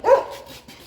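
A single short dog bark, close and fairly loud, fading quickly with a little room noise after it.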